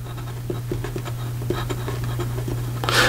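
A fountain pen writes on paper in short scratchy strokes, close and soft, over a low steady hum, with a brief louder rustle near the end.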